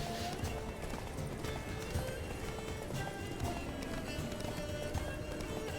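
Rapid hoofbeats of a galloping horse in The Witcher 3: Blood and Wine, over a busy, music-filled game soundscape, with occasional whinnies and faint voices mixed in.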